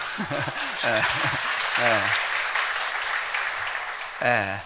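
A church congregation claps during a sermon in a steady, continuous wash of applause while a voice speaks over it in short phrases.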